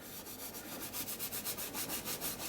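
A tissue rubs paint into an art journal page, giving soft, close, rhythmic scrubbing strokes in an even back-and-forth pattern, faint and without talk.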